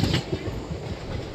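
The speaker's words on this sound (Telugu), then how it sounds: "మొత్తానికి అయితే మన ట్రైన్ కృష్ణా బ్రిడ్జ్ని అయితే దాటేసిందండి." Passenger train crossing the Krishna river bridge, a steady loud rumble of wheels on rails heard from inside the carriage, continuous and close with no pauses.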